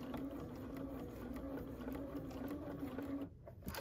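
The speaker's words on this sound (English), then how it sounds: "we'll take a couple stitches" A home sewing machine with a quarter-inch foot stitches a quilt block, humming steadily with a rapid needle clatter up close, then stops near the end.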